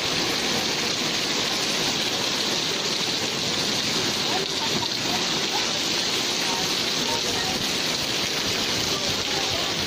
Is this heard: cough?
no